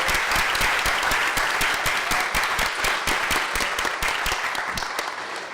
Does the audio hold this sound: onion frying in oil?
no